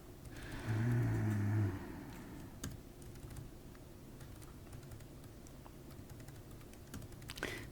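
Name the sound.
typing on a computer keyboard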